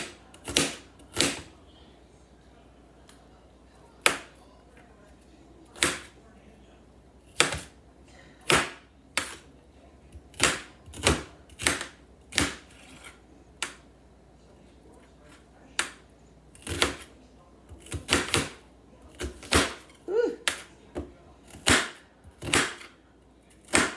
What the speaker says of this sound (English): I don't want these onions cut up too big.